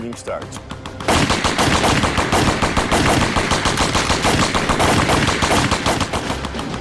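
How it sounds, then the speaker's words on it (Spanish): Rapid bursts of gunfire erupt after a brief quiet moment in a mafia massacre, a loud sustained volley of overlapping shots and automatic fire that continues without pause. "Y entonces empezaron a disparar."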